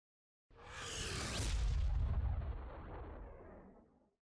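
A sword strike releases a huge burst of sound: a single deep, booming explosion that swells quickly and then rumbles away over about three seconds, with nothing else heard.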